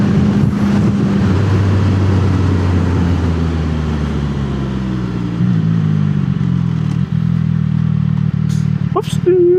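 Motorcycle cruising on a road in the morning: a loud, steady engine drone whose pitch glides gradually downward as the bike slows, with wind noise and a few clatters near the end.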